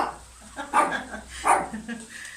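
A dog indoors barks a few times close by at a dog heard outside, over low background noise.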